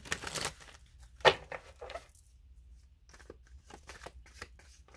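Tarot cards shuffled and laid out on a table, with a quick riffle at the start, one sharp slap, and then soft, scattered paper flicks and slides, close and quiet, with no talking.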